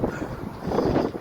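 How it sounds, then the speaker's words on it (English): Strong wind buffeting outdoors beside a train station in Perry Barr, Birmingham on a blustery day, a steady low rumble that swells louder toward the end, close and continuous with no talk. "Today it's a very windy day."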